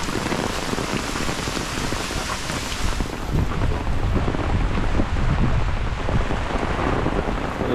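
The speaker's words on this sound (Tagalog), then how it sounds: "Lakas pa rin po ng ulan." Heavy rain pours steadily with a dense hiss after a strong typhoon, wind buffeting the microphone throughout; no one speaks.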